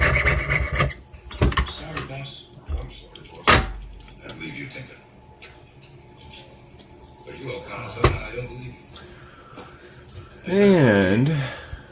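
A hand saw cuts through zinc pennies with irregular, close rasping strokes and scraping bursts separated by pauses. A person talks between the strokes.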